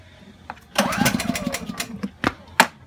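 A small generator engine sputters briefly to life after carburetor cleaner was added, coughing and firing unevenly for about a second before dying into a few separate pops.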